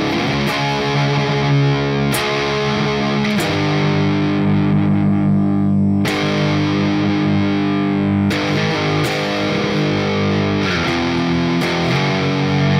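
Heavy, thick doom metal guitar with strong distortion plays loud, sustained chords that ring out and change every couple of seconds, with no voices.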